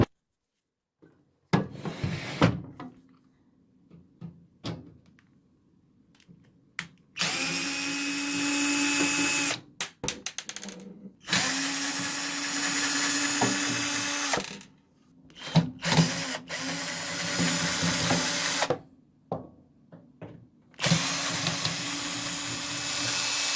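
Power tools opening a broken microwave, a drill whirring in several bursts of a few seconds each, separated by quiet pauses, with clicks and scraping on the casing.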